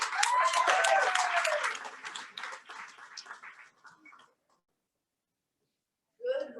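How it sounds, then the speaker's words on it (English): Applause for the Corona Fire Safety Foundation at a Corona Chamber morning event, fairly loud at first, then thinning out and fading into silence before a voice begins speaking. "Clap for them right here."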